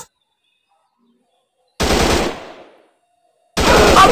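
Machine gun fire in a shooting video game: two loud, close bursts of rapid automatic shots, the first fading out with a lingering tail, separated by near silence.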